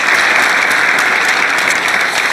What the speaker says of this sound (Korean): 박수로 공유해 주시기 바랍니다